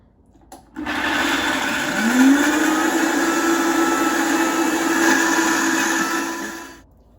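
A blender runs steadily for several seconds, mixing a thick walnut pâté, with a loud continuous whirring motor whose pitch rises briefly as it spins up and then holds.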